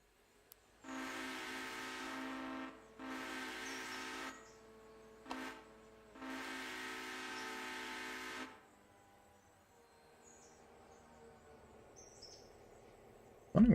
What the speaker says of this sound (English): Wondering where I was hearing so much whistling